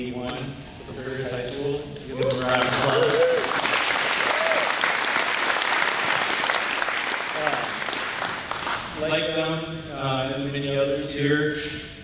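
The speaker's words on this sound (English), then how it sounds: "Give them a round of applause." Audience applause for the Curtis High School Class of 1981 at an honor graduate night ceremony, a sustained burst of clapping lasting several seconds, with speech heard before and after it.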